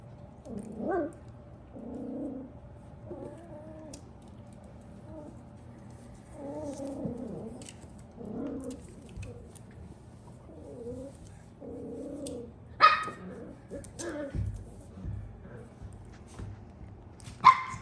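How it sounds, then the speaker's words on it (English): Schnauzer puppies yip and whine playfully in scattered bursts, with a couple of sharp high barks near the end. "So sounds of puppy playing there."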